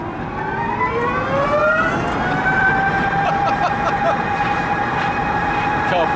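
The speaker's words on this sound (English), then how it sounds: "if you can hear me over the whine, we're driving along in a silent electric car" Steady high-pitched whine from an electric car while driving, with tones that rise gradually and then hold, continuous over road noise for several seconds.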